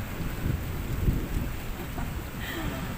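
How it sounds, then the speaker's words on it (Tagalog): Rain falls during an outdoor walking exercise, a steady broadband hiss of drops with a few low thumps underneath and no clear speech. "Tapos ganito, may ulan."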